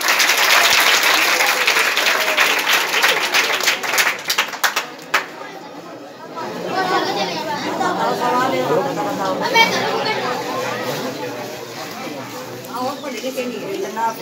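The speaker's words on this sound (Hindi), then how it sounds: "ताली बजाओ इस बच्चे" A crowd at a village gathering in Datiyana, Muzaffarnagar district, claps loudly for a child for about five seconds, then the applause breaks off into murmuring chatter and scattered voices.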